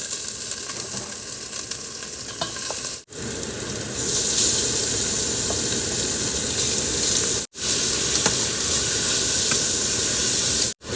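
Onions, carrots and bell pepper sizzle steadily in a hot pan, a loud, continuous frying hiss with brief cuts in the sound, and no voices.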